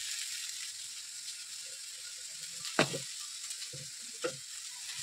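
Vegetables (eggplant, potato, carrot, drumstick) fry in a pan as turmeric and cumin powder are stirred in, a faint steady sizzle broken by a few scraping clicks of the spoon.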